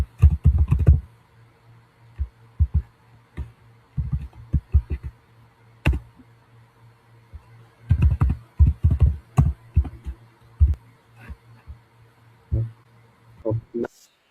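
Computer keyboard keys being tapped while code is written by hand, coming in irregular clustered bursts of clicks with pauses between, close and fairly clear against a faint steady hum.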